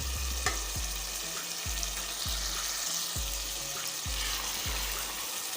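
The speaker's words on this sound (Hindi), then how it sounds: "सारी दाल शामिल कर देते हैं।" Chana dal is stirred into a frying masala for a dhaba-style dal, with a constant loud sizzle and a regular thud of the spoon roughly every half second; no voices.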